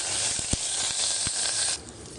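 Curry leaves dropped into frying garlic, onion and green chilli for puli rasam set off a loud, steady sizzle with a few sharp crackles, easing off near the end.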